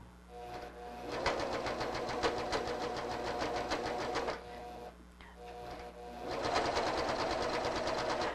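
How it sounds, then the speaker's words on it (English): A coverstitch serger sews around a U-shaped knit neckline, stitching off stabilizer onto the fabric with a steady, fast mechanical whir. It runs continuously for about four seconds, pauses briefly, then starts up again. "I can serge right off my stabilizer onto my fabric."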